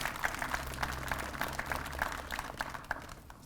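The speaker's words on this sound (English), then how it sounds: "Another round of applause, please." Applause from the audience at a Day of Mourning memorial ceremony, a steady, dense patter of many hands clapping at moderate distance that keeps going and then tapers off at the end.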